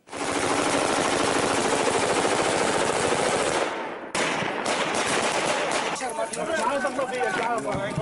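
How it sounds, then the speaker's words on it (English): Sustained automatic machine-gun fire by rebel fighters near the Syria-Turkey border, shooting into the air at Russian Su-24 pilots parachuting down; loud, continuous rapid bursts for about four seconds, then further shots mixed with shouting voices. "rebel fighters reportedly machine gunning 2 Russian pilots attempting to parachute to safety"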